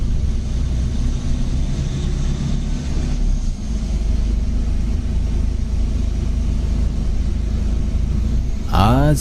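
A bus drives through dark jungle at night, its engine a steady low rumble that runs unbroken and fairly loud throughout, with a sharp rising sweep just at the end.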